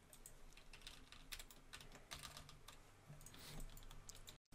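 Keys tapped on a computer keyboard at a desk while working in Adobe Illustrator, a quiet, steady patter of clicks over faint background hiss, no voices.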